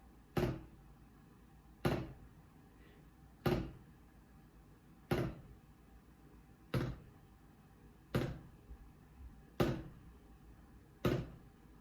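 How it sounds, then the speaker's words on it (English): Eight evenly spaced buzz-roll drum strokes, each a short buzzing press of the stick that fades quickly, played fairly softly with pauses between them. "So you can hear that by relaxing the stick, you're allowing the stick to bounce as much as possible."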